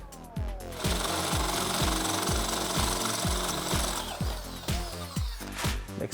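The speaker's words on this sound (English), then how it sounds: "Now we're gonna take our big drill bit." A big drill bit bores a hole, making a loud, continuous grinding roar with a fast, regular hammering pulse that lasts the whole time and shifts slightly in pitch.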